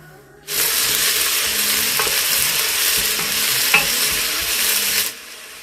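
Chopped onion dropped into hot oil after mustard seeds for a Kerala duck curry, a sudden loud, dense sizzle that roars steadily for several seconds at close range, then cuts off.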